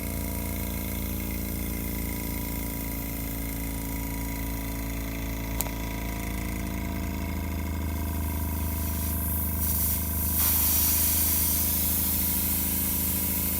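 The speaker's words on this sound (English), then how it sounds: "I'm going to turn the air compressor on and show you what happens on the regulator" An air compressor runs with a steady hiss of air leaking at the regulator of a pneumatic jewelry engraving machine, close and constant, with a low mechanical hum underneath that briefly rises near the end.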